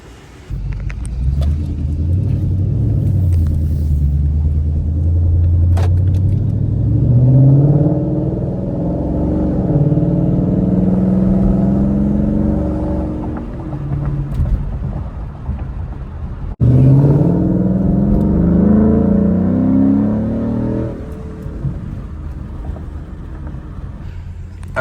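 A 2014 Ford Mustang GT with a louder exhaust revs up close, its deep, rumbling engine climbing through two long pulls with a brief dip between them, loud and steady over light wind noise.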